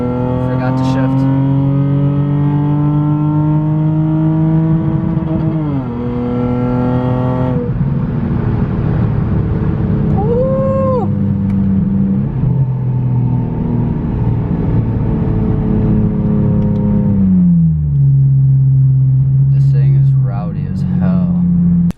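A Lexus IS300 accelerating hard on a road in Mexico, its loud engine note climbing in pitch through sustained revs, dropping at gear changes, then rising again, heard up close from inside the car.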